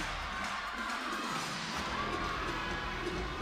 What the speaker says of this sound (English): Crowd is clapping along.